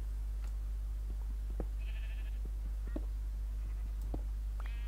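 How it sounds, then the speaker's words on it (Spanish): Sheep in the Minecraft video game bleat in short, fairly faint game-sound bursts over a steady low hum, with a few soft clicks scattered between them. "ovejas"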